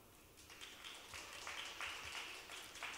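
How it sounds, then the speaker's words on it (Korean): An audience at a Seoul National University public science lecture applauds, with a faint, distant patter of clapping that swells in a few waves and a murmur of talk underneath. "큰 박수 부탁드립니다."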